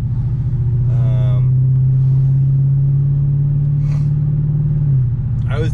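An Infiniti Q45 fitted with Nissan Titan headers drones steadily with a deep, loud exhaust rumble at constant cruise, easing slightly near the end.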